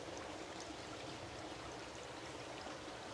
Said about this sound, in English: Our Buddha bubbler fountain.